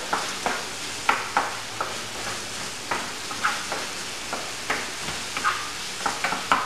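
A mixture being stirred in a pan for coconut shrimp, with repeated scraping and clinking strokes at an irregular rhythm over a steady soft hiss, close and moderately loud, with no talking.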